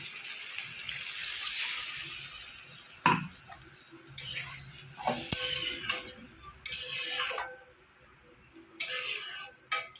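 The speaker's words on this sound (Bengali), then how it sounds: "মশলার জলটা আমি দিয়ে দেবো" Spice water poured into a pan of kolmi greens for a vegetarian chorchori makes a gentle trickle followed by several short sizzling, bubbling bursts with pauses between them, close by and fairly quiet.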